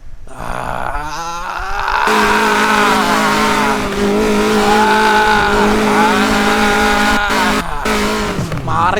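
Car engine revving hard at high RPM with a steady loud roar and rising tonal whine, sustained for several seconds after a quieter start, with brief dips near the end.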